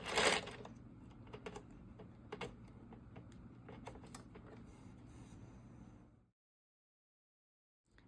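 An Addi knitting machine clatters as stitches are taken off, a quiet run of light mechanical clicks and rattles lasting about six seconds before it goes silent.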